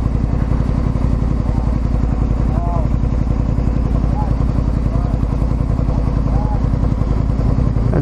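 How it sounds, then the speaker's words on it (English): A Harley-Davidson motorcycle engine idles close by with a loud, steady, lumpy rumble that continues without a break. "That's a Harley."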